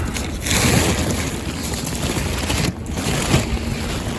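Strong wind blows outdoors on a cold late-May day with snow, buffeting the microphone in loud continuous rumbling gusts that briefly ease and surge again.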